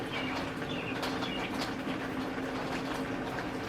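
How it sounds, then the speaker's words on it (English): Rain trickles steadily through a drain pipe outside by a front porch while birds chirp and call intermittently over the constant wash of water. "the sound of the rain in the drain pipe and the birds chirping"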